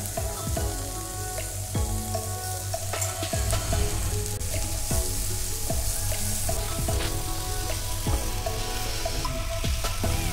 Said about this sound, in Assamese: অলপ ভাজা যোৱাৰ পিছত তাত পালেং শাকখিনি দি দিলোঁ।